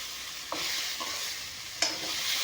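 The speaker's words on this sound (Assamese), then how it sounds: "অলপমান মাছখিনি ভাজি ল'ম এইখিনিৰ লগত ধুনীয়াকৈ।" Fish frying in a pan with spice paste and onions while being stirred: a steady close sizzle, broken by a few sharp scrapes or clinks of the spoon against the pan.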